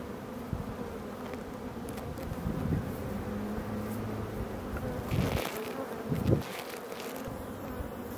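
Honey bees swarm around an opened beehive during a honey harvest, a steady droning buzz of many insects with louder passes close by and a few brief thumps and handling noises.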